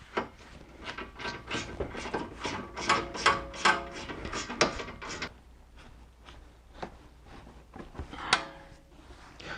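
A hand ratchet clicks in quick bursts while tightening a lock nut on the steering rack of a BMW E46, sharp rapid ratcheting followed by a few slower, separate clicks.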